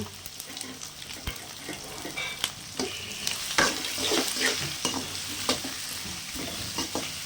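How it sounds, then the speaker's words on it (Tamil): Capsicum and large onion stirred and fried together in a pan, a steady close sizzle with repeated scraping and clinking strokes throughout. "குடமிளகா அப்புறம் பெரிய வெங்காயம் எல்லாத்தையும் போட்டுக்கலாம். போட்டுட்டு ஒரு கலரிடுங்க"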